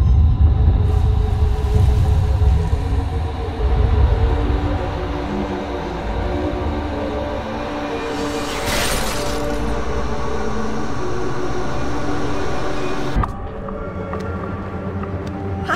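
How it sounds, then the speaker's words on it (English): Train from the video game Alice: Madness Returns, an infernal machine heard as a continuous loud rumbling drone with clanking and a brief hissing burst midway, then a sudden drop in intensity near the end. "Infernal train and the evil force that drives it."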